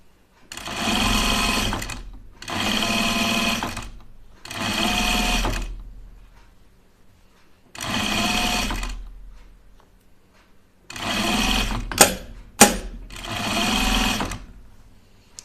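A sewing machine sews a thick sweatshirt seam in six separate bursts of a few seconds each with quiet gaps between, loud and close, with a couple of sharp clicks near the end.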